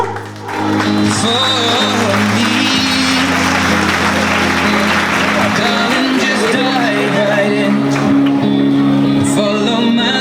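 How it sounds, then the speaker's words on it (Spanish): A crowd at a 2018 school graduation ceremony claps continuously and loudly under music and crowd noise, with voices and babble mixed in throughout. "Recibámonos con un fuerte aplauso."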